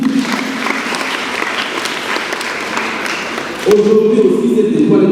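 Children and a congregation at a missionary childhood mass clap together for several seconds, then the clapping gives way to a voice or singing that comes in louder near the end.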